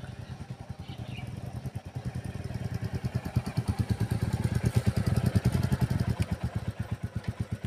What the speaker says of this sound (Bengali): ওই যে দেখুন দুটো বাইক আসছে